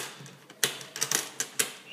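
Latches on an aluminium tool case snapping shut, a few sharp separate clicks close by with no talk.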